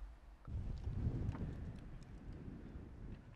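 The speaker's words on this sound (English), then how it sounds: "I gotta get out of this wind" Wind buffets the microphone outdoors beside a 2024 Zeekr 001 electric wagon, a low, gusty roar that swells after a quiet start and keeps rumbling unevenly.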